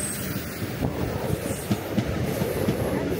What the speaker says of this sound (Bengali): ফাইনালি ট্রেনে উঠলাম।